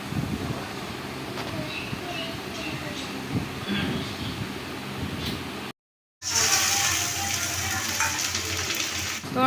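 Chopped onion sizzles in hot oil in a wok with bay leaf, dried chilli and five-spice, a steady frying hiss with stirring clatter that breaks off briefly and resumes louder, while a voice talks over it.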